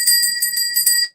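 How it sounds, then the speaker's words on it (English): A small bell rings in rapid, bright repeated strikes, loud and close, for about a second before cutting off and sounding once more. "I should actually start ringing the bell like you do, Chandra"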